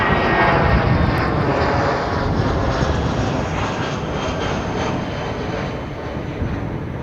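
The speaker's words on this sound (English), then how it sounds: "That aircraft off to Auckland." An Emirates airliner's engines give a loud, continuous roar at close range, with the broadband rumble steady and then slowly easing slightly, and no voices over it.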